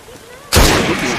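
A sudden loud gun blast booms from a firearm in the video game Assassin's Creed Syndicate, a heavy burst that bursts out after a quiet moment and rolls on with a lingering roar.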